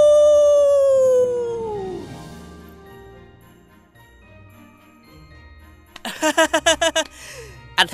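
A person imitates a wolf howl with a long, loud, sliding vocal wail that falls in pitch and fades, followed later by a rhythmic burst of short yipping sounds.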